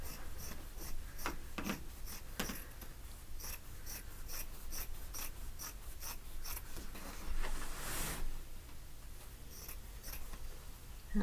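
Scissors snipping through quilt fabric, a steady run of small close cuts and rustles that carry on at a quiet, even level, with a brief louder swish near the end.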